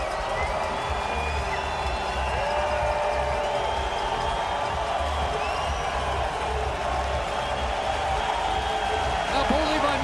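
A big stadium crowd roars and cheers continuously at a CFL football game between the Toronto Argonauts and Calgary Stampeders, a broad, sustained wash of noise with a commentator talking over it.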